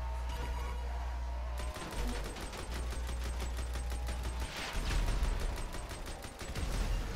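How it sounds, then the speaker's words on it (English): Rapid automatic machine-gun fire in GTA Online during a Tiny Racers retro racing event, a fast, continuous stream of shots at moderate level layered over steady game engine drone. "That machine gun just keeps firing, I think, off the screen, too."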